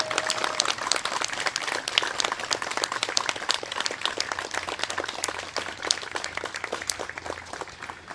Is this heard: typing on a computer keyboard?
no